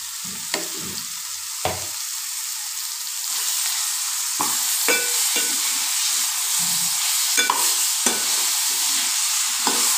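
Ginger-garlic paste sizzles steadily in a pan while being stirred, with scraping strokes and clinks from the spoon recurring every second or so over a continuous frying hiss.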